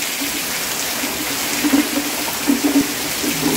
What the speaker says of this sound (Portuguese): Chuva grossa mesmo.